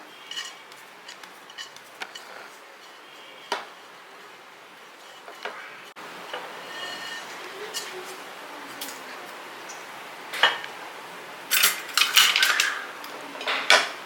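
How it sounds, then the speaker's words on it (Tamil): Dried ginger tipped into a pan and dry-roasted while making instant pongal mix, heard as scattered metallic clinks and scraping of a spoon against the pan, growing busier and louder toward the end, with no talk. "இப்போ நம்ம அந்த ட்ரை ஆகின வந்து இஞ்சியை வந்து இதில் போட்டுக்கலாம்"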